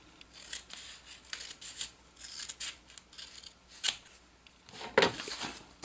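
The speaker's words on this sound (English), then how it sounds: "I could do that with scissors though" Scissors trimming the edge of a sheet of paper, a series of close, crisp snips and soft papery rubs spaced irregularly, with a couple of sharper cuts standing out.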